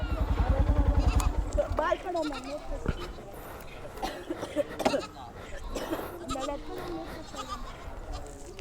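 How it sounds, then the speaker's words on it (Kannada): A goat bleats in a loud, wavering burst at the start, then people talk and laugh nearby while a motorcycle idles in the background. "ಯಾರು ಮೇಕೆ ಇದು?"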